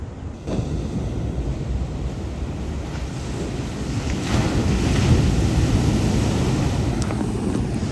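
Waves crashing at the Wedge shorebreak in California, a broad, loud roar of surf that swells midway, mixed with heavy wind buffeting and no voices.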